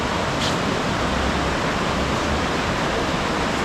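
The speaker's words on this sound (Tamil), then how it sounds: "பாருங்க இந்த எவ்வளோ தண்ணி போகுதுன்றாங்க." Steady, dense rush of flowing water fills the whole clip, a broad continuous roar with no breaks and no voices.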